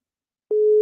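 A telephone busy tone follows a dropped call on a radio broadcast: silence, then a single steady, loud electronic beep starting about halfway through and continuing to the end.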